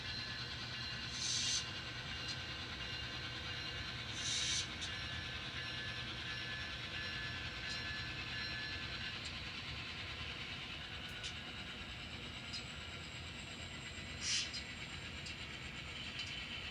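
N scale model train engine running on track, a steady low mechanical rumble and hum carrying on continuously, with a few brief sharp clicks and ticks from the rails at intervals.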